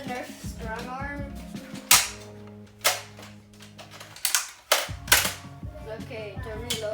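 A Nerf Strong Arm toy blaster fires and is handled up close, giving several sharp snapping pops and clacks spaced irregularly, with bursts of voices and background chatter in between.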